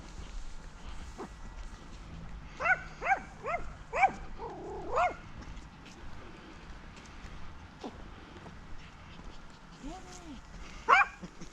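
A dog barks several times at a distance, short yips and woofs in small bursts with quieter pauses and faint background noise between.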